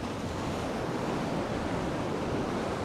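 Sea surf rolls onto the beach at Vityazevo near Anapa in a continuous broadband roar, mixed with gusting wind buffeting the microphone.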